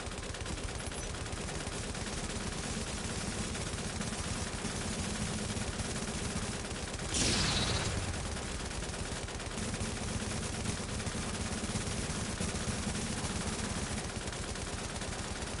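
Steady stream of gunfire in The Division 2, a dense continuous rattle of shots running throughout with one louder burst near the middle.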